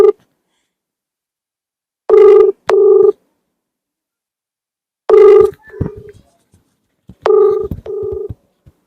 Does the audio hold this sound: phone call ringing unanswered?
yes